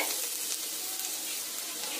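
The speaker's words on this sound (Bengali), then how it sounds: "সব সবজিগুলো আমার ভাজা হয়ে গেছে" Vegetables, including peas, fry in a pan for paneer chowmein, giving off a steady, dense sizzle that holds evenly from start to finish with no voices over it.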